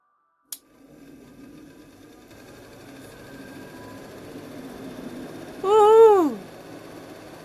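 A van roof ventilator fan starts up after a click and runs as a low, steady motor hum that slowly builds, with a brief rising-and-falling whine partway through.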